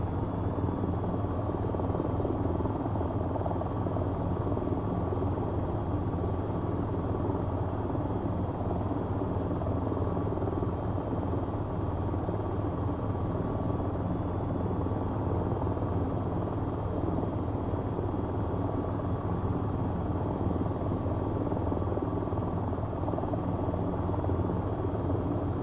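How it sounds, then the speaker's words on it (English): An attack helicopter's rotor in a VR flight video game drones steadily throughout, a dense low rumble with a faint high whine, constant and loud, with no voices. "You hear the helicopter?"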